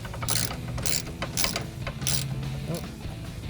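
A ratchet clicks in quick repeated strokes, tightening bracket bolts for running boards on a 2019-2022 Ford Ranger, loud and close with short pauses between bursts.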